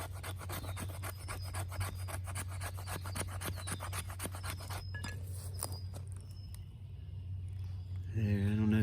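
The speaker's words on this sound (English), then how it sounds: "you take a good sharp spine and just scrape the shit out of it" The sharp spine of a custom Bushradical knife scrapes wood into shavings in rapid, rhythmic rasping strokes up close for several seconds, then the scraping slows to a few scattered rubs before a brief clunk.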